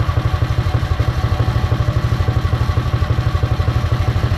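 A Predator 212 small engine on a CDI ignition, belt off, runs steadily with a rapid, even thumping beat and metallic clatter, loud and close throughout.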